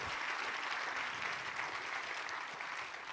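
A crowd applauds after a speaker at a biomimicry expo, with dense, even clapping from many hands sustained at moderate level for a few seconds, fading slightly at the close.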